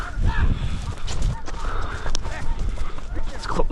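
Ross's geese honk overhead during a waterfowl hunt, a loud busy flock with overlapping calls and bursts of sharp noise, while hunters talk nearby.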